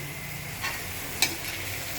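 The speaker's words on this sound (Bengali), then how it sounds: "এবার চিকেন কিমাটা দিয়ে দেওয়া হবে। এই যে সব কিছু ভালো করে ফ্রাই করা হবে।" Chicken mince and potatoes fry in a pan with a steady low sizzle, broken by a couple of brief scraping stirs, close by and without talk.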